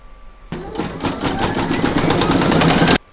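An embroidery machine stitching a fill section of a Christmas tree design, a fast, loud mechanical rattle of rapid needle strokes that starts abruptly and stops sharply after about two and a half seconds.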